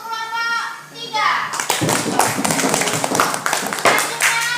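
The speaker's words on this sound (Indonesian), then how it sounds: "Tepuk tangan untuk kelompok 3" A class of children claps for group 3 after someone speaks; the dense, uneven clapping breaks out suddenly and continues close and loud to the end.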